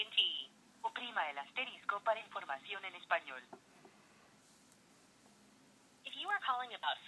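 Keypad tones from an iPhone 5 on an AT&T voicemail call, a single press of the one key heard among automated prompt speech.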